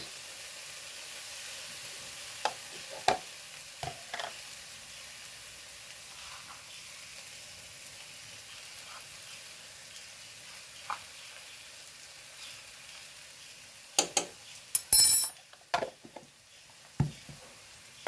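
Chicken frying in a pan with crushed dried red chillies, stirred. A soft, steady sizzle runs throughout, broken by scattered short scrapes and clinks that cluster toward the end.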